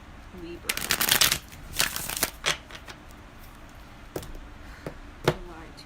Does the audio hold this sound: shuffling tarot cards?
yes